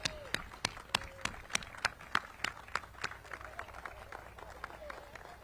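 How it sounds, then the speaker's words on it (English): At an outdoor groundbreaking ceremony for Kenilworth 166, a small crowd gives scattered, distinct claps, individual sharp hand claps ringing out in a loose rhythm with a faint murmur of voices beneath. "I want everybody to give themselves a round of applause."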